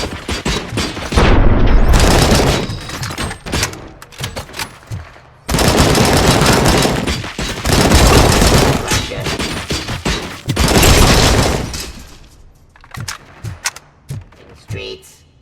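Heavy gunfire from Robocop: Rogue City, loud sustained bursts of automatic fire broken by short pauses, with booming impacts and a voice talking over the shooting.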